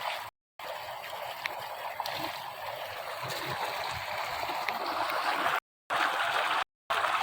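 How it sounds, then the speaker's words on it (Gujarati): Steady rushing water pours continuously from a borewell, a broad hiss with gurgling underneath, close by, broken by a few brief dropouts. "શુદ્ધ પાણી અત્યારે બોર છે જુઓ અહીંયા આવે છે પાણી"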